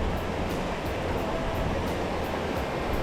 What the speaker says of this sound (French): Enfin, la petite rivière, le petit torrent.